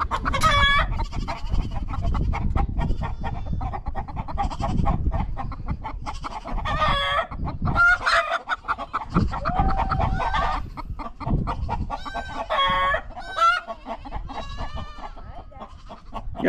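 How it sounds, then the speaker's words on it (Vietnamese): Chickens cluck busily in a coop while a rooster crows several times, close and lively against a rustling farmyard background, with no speech. "Những cái con gà nó sống ở trong một cái chuồng."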